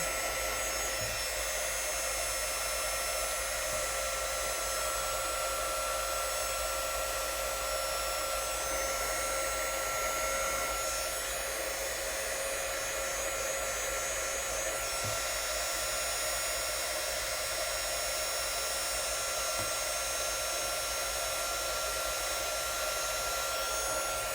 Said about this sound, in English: I'm going to try to heat up the glue in the center and smash it down a little.